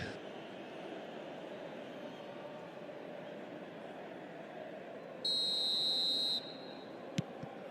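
Referee whistle blown for offside in a football video game, a single sustained shrill blast of about a second over a faint steady background hum, followed by a brief sharp click.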